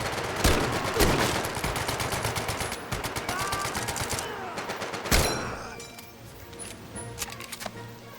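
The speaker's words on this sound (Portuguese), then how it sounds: "Deve ter dado uns 5 tiros no cara" Gunfire in the Medal of Honor VR war game: rapid automatic bursts of shots crackle for several seconds, then a single sharp loud shot, followed by quieter scattered pops as the firing dies down.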